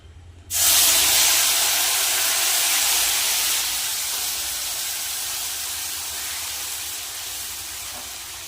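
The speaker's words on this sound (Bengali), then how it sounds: "এবার মশলাটা দিয়ে দেবো তেলের মধ্যে" Spice paste hitting hot oil in a pan while cooking a Bengali egg curry with potatoes, bursting into a loud broadband sizzle that holds steady and slowly eases over several seconds, with no talking.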